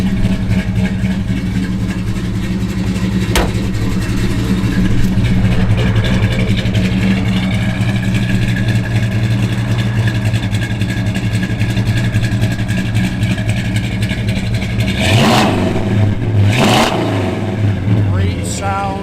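A 1970 Dodge Charger R/T rumbles at a steady, close idle, then gives two sharp revs near the end, with faint voices in the background.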